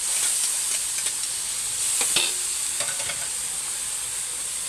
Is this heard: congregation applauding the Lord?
no